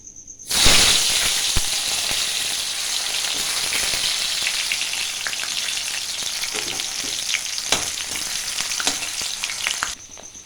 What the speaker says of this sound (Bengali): একে একে সব সবজিগুলোকে ভেজে নিতে হবে।